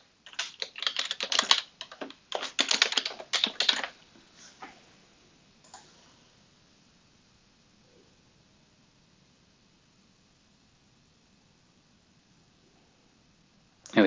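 Rapid clattering keystrokes on a computer keyboard as an email address is typed, two brisk bursts close up, then sparse taps before going quiet.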